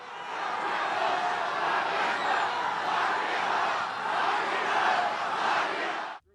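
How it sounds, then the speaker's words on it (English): A crowd at a presidential rally chants "Lock him up" while the speech pauses, heard as a dense, continuous roar of many voices that runs steadily before cutting off abruptly. "The crowd chanting, "Lock him up," as the president paused his speech."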